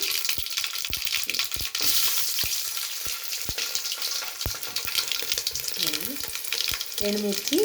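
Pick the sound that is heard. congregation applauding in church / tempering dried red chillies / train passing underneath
tempering dried red chillies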